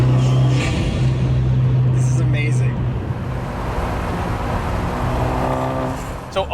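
A used car engine fitted with an aftermarket intake and wastegate, rumbling with a steady low drone and a few revs, under a voice talking over it throughout.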